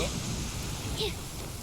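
Steady rain hisses in the Genshin Impact video game world, a dense, even wash of noise with a faint low rumble underneath and no voices.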